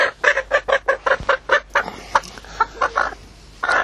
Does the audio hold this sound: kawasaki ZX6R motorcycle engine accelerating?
no